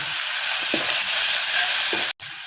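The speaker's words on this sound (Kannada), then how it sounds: "ಈ ಟೊಮೆಟೊನ ಹಾಕೋತೀನಿ. ಟೊಮ್ಯಾಟೋನು ಈಗ ಮೆತ್ತಗಾಗೋ ಮಟ್ಟ ನಾನು ಫ್ರೈ ಮಾಡ್ಕೋತೇನಂತ." Finely chopped tomato sizzles and fries in hot oil in a pan, a loud, steady close hiss with a few soft stirring knocks and a brief break near the end.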